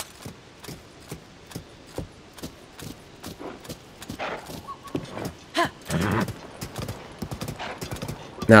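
Horse hooves clip-clop at a steady trotting rhythm while riding along a beach in the video game Zelda: Tears of the Kingdom, with a horse whinny and game sounds layered in, moderately close.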